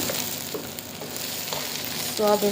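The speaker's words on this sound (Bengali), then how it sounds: "তো চাউলটা আমি ভালো করে এখানে মিক্স করে দেব" Rice and soybean chunks for pulao stirred and mixed in a hot pan, with a steady sizzle and scraping from close by, no talking.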